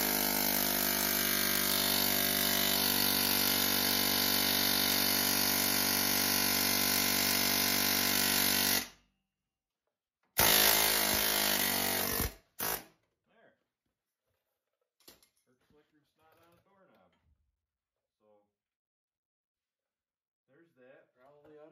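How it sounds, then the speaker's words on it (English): A loud, continuous pneumatic air hammer with a pickle fork rattles steadily for several seconds on a 2004 GMC 2500HD ball joint, stops, bursts again briefly, then gives way to quiet with faint clinks and movement. "So we got the pickle fork on the air hammer."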